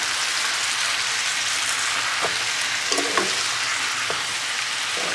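Noodles with vegetables and bacon are stir-fried, producing a dense, steady sizzle like rain throughout, with occasional soft clinks from the utensil.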